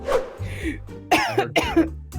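A person coughs several times up close, harsh and throaty bursts in quick succession with a bit of throat clearing between them.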